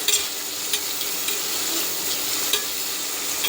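Ingredients for a green field bean (mochai) sambar sauté in a pan, giving a steady close-up sizzle broken by occasional stirring scrapes, with no voices.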